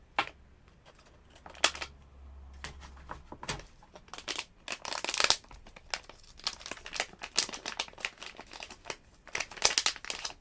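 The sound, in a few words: plastic bag being cut open and crumpled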